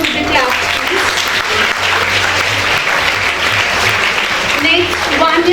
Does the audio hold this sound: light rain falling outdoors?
no